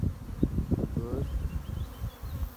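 Buckfast honey bees buzz at a hive in Brittany, a low, steady drone with pulsing swells throughout, close to the listener, with no speech.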